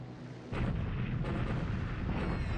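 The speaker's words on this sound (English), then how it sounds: "Bombing Chinese troops on the move." Bombing explosions rumble in a WWII strategy game as Chinese troops are hit, a sudden deep blast followed by a sustained, dense roar of booming detonations.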